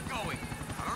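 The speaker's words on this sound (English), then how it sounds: "jetzt unauffällig mit dem Heli verfolgen" A helicopter in GTA 4 follows a small red car, giving a steady, rapid rotor thump and engine whine that fills the second, with someone talking over it.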